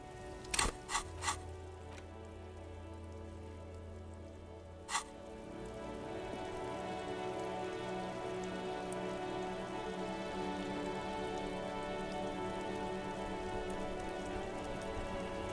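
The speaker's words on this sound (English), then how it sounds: "Stuck in the rain in a traffic jam" Steady rain patters on surfaces in the video game Disco Elysium, with a low continuous hum underneath, after a few sharp clicks and knocks at the start.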